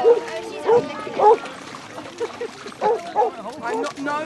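Basset hound on a countryside walk giving several short barks and yips near water, mixed in with people talking.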